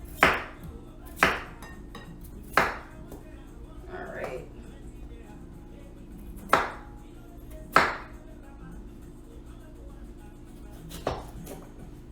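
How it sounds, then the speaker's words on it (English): A knife chops through a potato on a cutting board during home meal prep, giving sharp irregular thuds spaced a second or more apart over a low background hum, with a brief spoken word. "I'm chopping the last potato"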